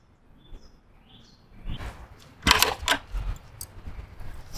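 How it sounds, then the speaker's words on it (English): Songbirds chirp outdoors beside a kamado grill during a steak dinner cook, with thin, high calls early on that give way to louder clattering and knocking nearby. "The birds are going crazy."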